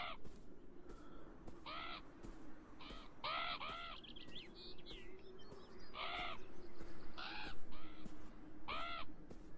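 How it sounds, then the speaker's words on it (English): Crows cawing in the video game Beyond Eyes, harsh calls in short bursts of two or three repeated every second or so over a steady low ambient hum, with no talking. "There's fucking evil crows everywhere giving off black energy."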